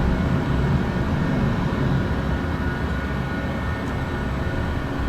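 A Cessna Citation Sovereign+ business jet climbs at climb thrust just after takeoff in a flight simulator, its engines giving a constant, dense, loud roar throughout with no voices.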